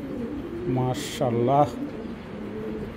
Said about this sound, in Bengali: এটা মাস্টার ব্রিডিং একটা কবুতর